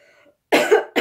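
A woman coughs twice, close and loud, with a quick bark followed by a second cough just after, while recording a favourite-products makeup review.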